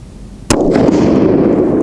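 A TC Compass rifle loaded with Hornady 168-grain Z-Max bullets fires one single sharp, very loud, close shot that is followed by a rumbling echo rolling off.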